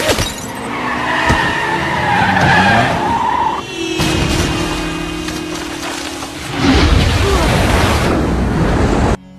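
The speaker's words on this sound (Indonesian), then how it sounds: "mobil itu kehilangan arah dan jatuh ke dalam sungai" In a chase scene from The Bourne Supremacy, a car skids hard with squealing tires, then hits the water and plunges into a river with a heavy rushing splash that stays loud and close to the end.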